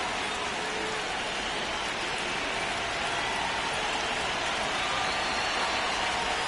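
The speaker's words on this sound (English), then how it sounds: "the field's not going to be able to hold up if the rain gets any worse than this" Rain falling steadily on a ballpark in MLB The Show 26, a dense, even hiss of downpour throughout with no talking.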